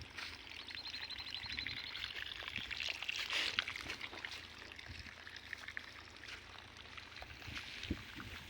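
Irrigation water runs into a farm field after the wheat harvest, ahead of sowing millet: a steady close gurgling, trickling flow with small splashes, continuous throughout and without talk.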